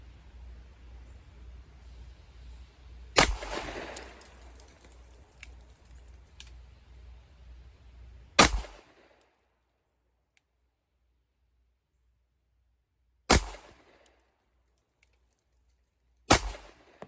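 Four sharp, loud pistol shots from a Shadow Systems CR920P fired at 10 yards, spaced unevenly several seconds apart, each a crisp crack with a short decay, over a low steady background hum.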